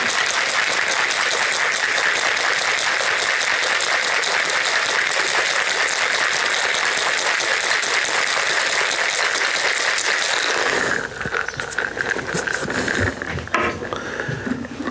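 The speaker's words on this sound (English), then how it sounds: "put all that in the shaker with some ice and give it a good shake" Ice rattles hard and fast inside a cocktail shaker holding chocolate liqueur, a dense continuous shaking for about eleven seconds, then it stops and only a few quieter knocks and clinks follow.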